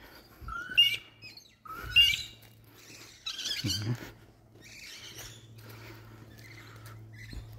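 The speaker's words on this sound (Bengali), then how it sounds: "পাখির কিচিরমিচির শব্দ শোনা যাচ্ছে" Small birds chirp and tweet in a quiet residential neighborhood in Australia, with a few brief calls standing out near the start and a low steady hum running underneath.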